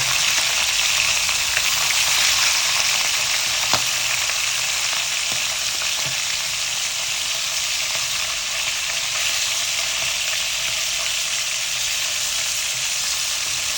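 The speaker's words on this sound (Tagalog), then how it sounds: "Luto na itong pinirito natin isda." Fish fries in a pan with a loud, steady, dense sizzle and crackle that holds evenly throughout, close and with no talking.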